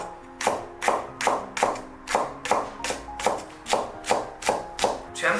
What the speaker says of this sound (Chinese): 1小节大葱，给它切成薄片